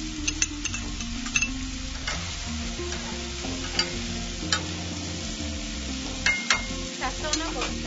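Tomatoes and eggplant chunks cooking in a frying pan, a steady close sizzle broken by sharp scraping taps as they are stirred.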